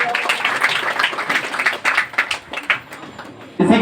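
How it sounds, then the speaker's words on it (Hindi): Audience at a village results ceremony in Madhubani, Bihar, clapping hard for students, a thick continuous patter of many hands that stops abruptly near the end. "इनके भी एक बार जोरदार तालियां"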